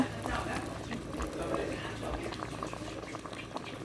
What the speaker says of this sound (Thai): ตอนนี้เราจะใส่ผักหวานนะคะ ผักหวาน